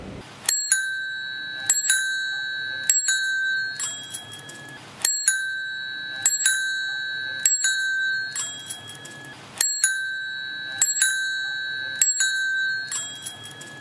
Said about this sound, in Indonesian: Anak-anak, inilah bunyi bel sepeda.